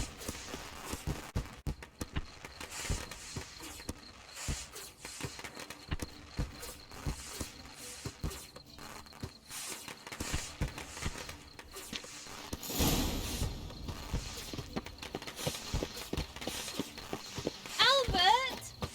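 Horse hooves clip-clop through the stables in The Witcher 3, a steady walking patter that runs beneath music and other game sounds, with people talking over parts of it.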